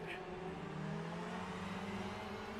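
A race car engine in the Le Mans Ultimate racing game holds a steady, droning note at moderate distance, its pitch climbing slightly as it runs, with no talk over it.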